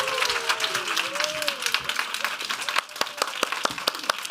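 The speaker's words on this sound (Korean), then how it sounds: "우리 최병락 담임 목사님을 박수로 맞이하도록 하겠습니다." A church congregation at a youth service claps to welcome senior pastor Choi Byung-rak, a burst of close, dense applause with sharp individual claps; a voice speaks over the start before the clapping continues alone.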